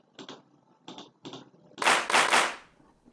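Clap samples in an afrobeats track built in FL Studio: three light, short clap hits, then a louder burst of layered, stacked claps ringing briefly. The sounds are heard alone, with no talk.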